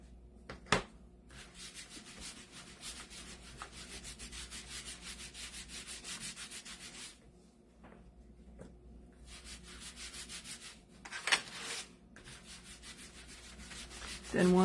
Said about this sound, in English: So I'm going to give it a quick waxing here.